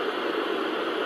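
A baby sound machine's fan setting plays a steady, even hiss of white noise, constant and unchanging for about a second with no voices.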